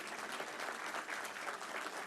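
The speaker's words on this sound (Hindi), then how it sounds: "तालियां कम नहीं पड़नी चाहिए" An audience at the Sushasan Mahotsav 2024 speech event gives a steady, even round of applause with many hands clapping together for about two seconds. No speech is heard over it.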